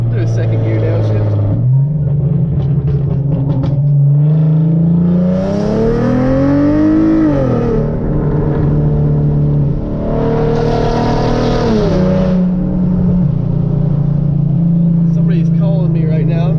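A modified 2013 Hyundai Genesis Coupe 3.8 V6 with full bolt-ons drops to second gear and accelerates, its loud engine drone climbing in pitch, easing, then rising again in a sustained pull heard from inside the car.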